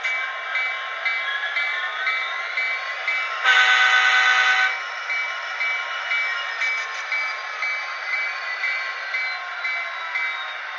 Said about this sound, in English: Tsunami 2 sound added to it. Got to Keep Alive. Unfortunately, you can see it in there. I'm going to have to move it at some point. Added ditch lights. Real nice sounding locomotive.